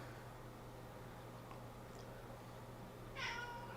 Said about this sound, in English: Meow. Yes, meow.